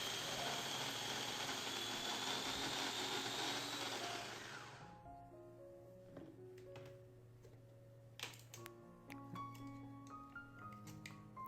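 An electric mixer grinder runs loud and steady as it grinds a wet chai masala spice mix, then cuts off, leaving faint ticks and clicks as the jar settles.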